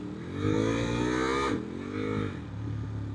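A motorcycle engine revs high and holds with the clutch pulled in, drops sharply, then climbs again, loud and close with no talking.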